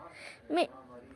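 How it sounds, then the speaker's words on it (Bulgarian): A small kitten gives a single short, high meow, close and fairly clear over faint background noise. "Малкото сладко котенце."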